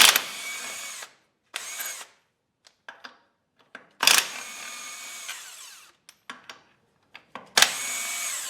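An electric impact wrench whirs in several short, loud bursts of varying length while removing a trailer wheel, separated by pauses with faint clicks and clanks of metal parts.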